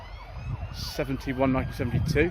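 Police car siren wailing at a classic car show, a rising and falling tone heard at moderate distance, mixed with a voice talking close by.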